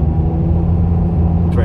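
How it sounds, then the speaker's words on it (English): A steady low engine drone and CVT gearbox hum from inside a moving Toyota iQ in town, constant and fairly loud, with a brief higher whine near the end. "the CVT gearbox is quite noisy around town"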